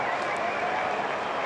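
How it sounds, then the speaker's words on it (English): Steady, dense applause and crowd noise from football fans standing in the stands at an AFL match between Gold Coast and Essendon, a continuous loud wash without pause across the whole moment. "The fans standing and applauding what they see"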